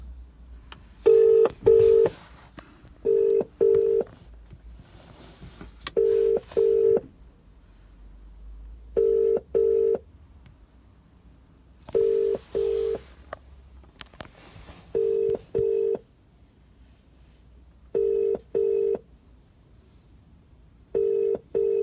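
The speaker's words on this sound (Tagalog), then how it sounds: "Okay, so tawagan natin yung customer." A phone calling a customer's number, repeated pairs of electronic ringback beeps at a steady rhythm with quiet gaps between, loud and close.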